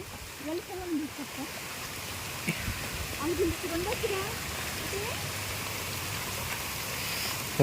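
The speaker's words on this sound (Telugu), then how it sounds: "ఇవో చూడు ఎలా పడుతుందో వర్షం" Heavy rain pouring down in a steady broadband roar, with people talking over it intermittently.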